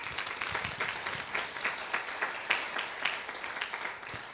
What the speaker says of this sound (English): give a round of applause for my staff